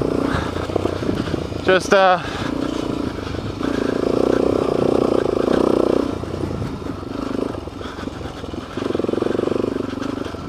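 A KLR motorcycle engine drones and surges while riding bumpy ground in Moab, with a sharp clatter near the start and a voice speaking briefly over the engine noise.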